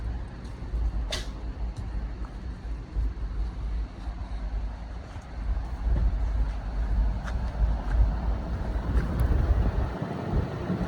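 A Pioneer 4-zone mini split unit, model YN040GLF122M40, runs with its fan spinning, giving a steady broadband rushing whoosh of airflow with a few faint clicks and slight swells in level.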